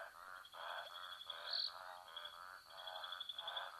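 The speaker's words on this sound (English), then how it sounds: "I can hear eastern olive toads" Eastern olive toads call faintly in the distance, a repeating series of short nasal croaks pulsing in a steady rhythm, with a thin high insect-like whistle above.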